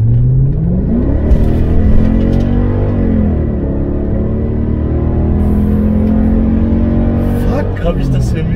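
Loud, close Mercedes-AMG car engine revving, pitch sweeping up and easing back, with a steady rumble throughout and speech mixed in.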